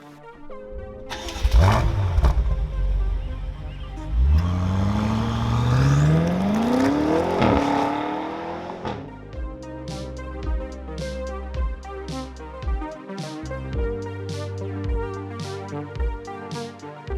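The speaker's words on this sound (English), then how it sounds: "today I'm driving the 2018 BMW M5" A 2018 BMW M5 with a twin-turbo V8 and all-wheel drive starts and revs hard, the engine note sweeping up through rising pitch, then settling into a loud, uneven idle burble with sharp blips, close and alone.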